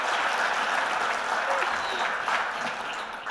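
An audience at an awards evening applauds steadily, a dense, sustained clapping that holds at an even level throughout.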